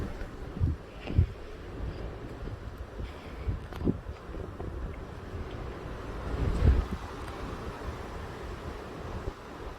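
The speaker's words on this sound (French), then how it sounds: "Oh les rafales! Oh les débris!" Violent storm wind gusts with flying debris during Storm Larisa at Mérignac, a steady broadband roar of wind buffeting the microphone, swelling into stronger gusts with occasional thuds and rattles.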